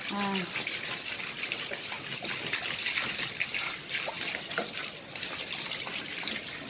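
Water splashes and trickles steadily while parts of a split air conditioner are washed, a continuous close running-water wash with a voice speaking over it.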